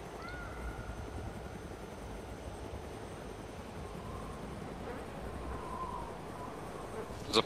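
An airplane flying overhead in the survival video game DayZ, a low, steady distant engine drone that holds faint and even throughout, with a sharp brief noise at the very end.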